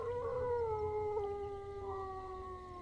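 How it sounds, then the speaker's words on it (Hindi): Dogs howl far away in the quiet of a late night past midnight. The howls are faint, long and wavering, slowly sliding in pitch over a soft background hum. "दूर कहीं से कुत्तों के रोने की आवाज आ रही है"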